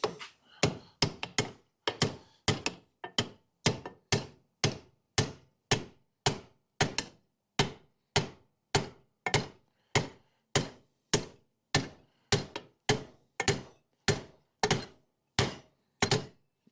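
A hammer pounds on a stubborn, partly broken upper control arm bushing on a Chevelle. The blows are sharp and metallic, about two per second, close and steady for the whole stretch, with no talking.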